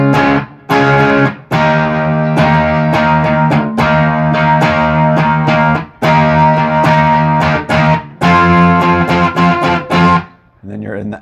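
Distorted electric guitar plays a climbing riff, loud chopped chords rising in short bursts with brief pauses, ending in a fading note.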